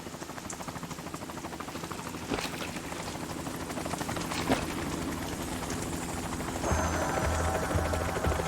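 Helicopter rotor noise from the Metal Gear Solid 2 video game, a steady thumping drone with a distinct change partway through, mixed with other game sounds.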